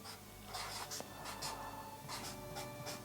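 Close, faint pen or pencil scratching on paper as someone writes by hand, with short strokes and brief taps in an irregular rhythm and a quiet room hum underneath.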